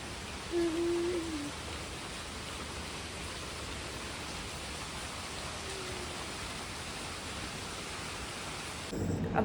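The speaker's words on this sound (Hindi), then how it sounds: "अब मैं आपको दूसरी बालकनी से दिखाती हूँ अपनी कि कितनी तेज़ बारिश हो रही है।" Rain falling steadily outside a balcony, a moderate, continuous hiss of drops heard alone, with a faint tonal call early on and a brief louder disturbance at the very end.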